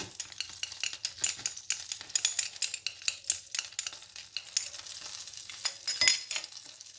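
Paprika stirred as it fries in hot oil over medium heat, a steady bright sizzle broken by frequent scraping and light clinking strokes of a utensil against the pan, close and continuous with no talking.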